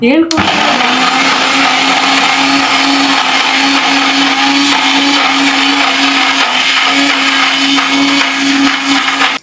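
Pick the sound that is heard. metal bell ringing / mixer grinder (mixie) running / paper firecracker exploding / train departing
mixer grinder (mixie) running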